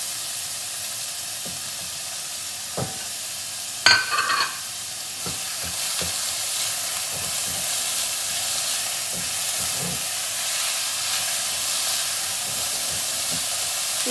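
Onions sizzle steadily in a hot pan of oil, a continuous frying hiss broken by the brief clatter of a spoon stirring, with no voices.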